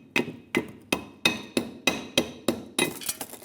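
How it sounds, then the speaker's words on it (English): Hammer blows on a rusty brake backing shield lip of a 2003-2009 Dodge Ram 2500, eight sharp metallic strikes in a steady, evenly spaced rhythm, close and loud, with a flurry of quicker hits at the end. "so I'm going to try to hammer it out."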